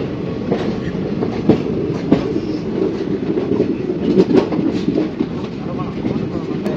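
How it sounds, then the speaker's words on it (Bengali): A sand-loaded freight train rolls through Purulia junction, a loud continuous rumble with clattering wheels and occasional knocks, close by and sustained throughout. "মালগাড়ি যাচ্ছে, মালগাড়ির ওপর ওই মালগাড়িতে আর কি বালি রয়েছে, বালি বোঝাই মালগাড়ি।"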